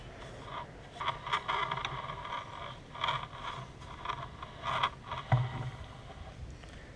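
Harbor Freight bead roller running fast through sheet metal, producing repeated scraping, squeaking metallic passes in an uneven rhythm, close and fairly quiet, with no speech.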